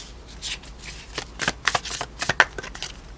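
Tarot cards being shuffled by hand, a quick papery riffle of flicks and soft slaps in irregular bursts, close and fairly crisp, with no talking over it.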